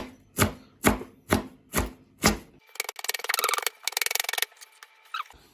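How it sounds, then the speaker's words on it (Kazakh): Cabbage being chopped finely with a knife on a board: five sharp, evenly spaced thuds, then a rapid run of quick, light rhythmic cuts, close and clear. "Енді үстінен тағы да былай ұсақтаймыз"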